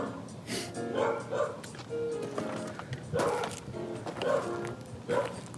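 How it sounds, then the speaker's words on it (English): Several dogs bark repeatedly at middle distance outdoors near a driveway where an old Volvo 240 is being polished, the barks coming in uneven clusters over steady background noise. "Oh man, those dogs need to shut up."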